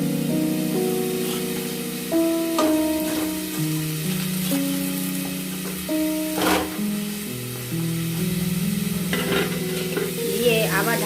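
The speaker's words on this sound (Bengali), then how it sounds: "আলুটাকে ভালো মতো করে নাড়াচাড়া করে এটাকে একটু আমরা লাল লাল করে ভেজে নেব" Potatoes with turmeric being stirred and fried in a kadai produce steady sizzling and repeated scraping strokes, with sustained tones in the background.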